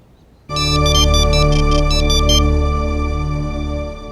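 A mobile phone ringtone starts abruptly after a quiet moment, a loud sustained electronic melody with a bright pulsing upper pattern that fades out before the end, with no one talking.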